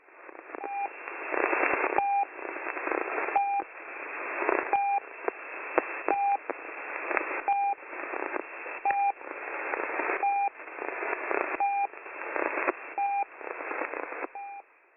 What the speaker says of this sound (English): These sound like a higher pitched version of the original Russian pip marker